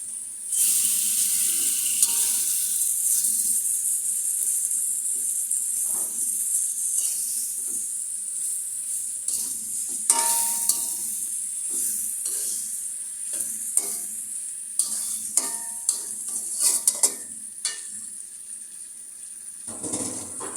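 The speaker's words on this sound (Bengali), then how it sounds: "এবার আমি মাছগুলো দিয়ে দিব।" Fish slides into hot spiced oil for a Bengali fish curry, setting off a loud, close, continuous sizzle and hiss with scattered scraping and stirring knocks in the pan, no talking.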